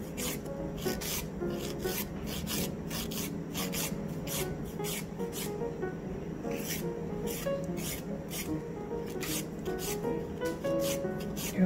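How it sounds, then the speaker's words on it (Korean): A nail file rasps back and forth against an artificial nail tip, shaping it into a round form, with steady close rubbing strokes continuing evenly throughout and no talking. "파일은 비비지 않고 한 방향으로"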